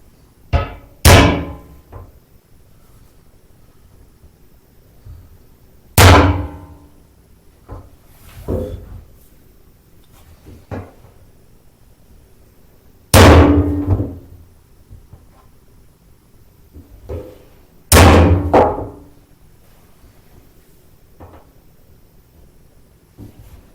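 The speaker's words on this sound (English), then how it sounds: "I'm gonna take this little punch and see if I can mark the holes here." Sharp metallic taps from a center punch marking drill holes on a vintage Plymouth, at irregular intervals, a few strong hits each followed by lighter taps, close by in an otherwise quiet room.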